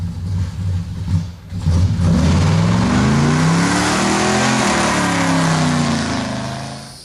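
A 1970 Pontiac LeMans with a Turbo 400 automatic transmission accelerates hard from a standstill, the engine roaring and rising steadily in pitch through the gear, loud and close, with no talking.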